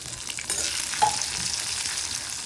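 Peeled small onions sizzle steadily with chillies in a hot pan, a continuous close crackle with a brief stir near the middle, no voices.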